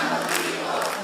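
Crowd at a Convergencia Social party anniversary applauding President Gabriel Boric, a dense, steady wash of clapping and cheering that stays loud throughout the short moment.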